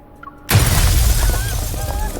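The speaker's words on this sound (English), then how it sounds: "Glass from the upper floor of the building suddenly shatters, and the crowd below is startled." An upper-floor glass window shatters suddenly in the Love and Deepspace video game, a loud crash bursting in after near silence, followed by a sustained spray of falling glass and crowd noise.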